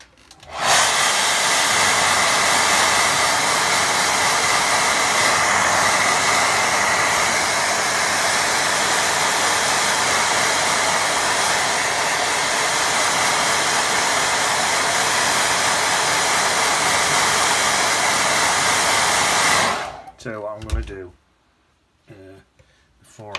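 A hair dryer blows on a watercolour painting in one steady, loud, close roar for about twenty seconds before cutting off, followed by a few soft handling sounds.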